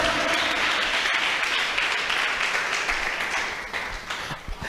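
A church congregation claps hands loudly at an evangelical testimony service, dense sustained applause that thins and fades toward the end with a few scattered claps.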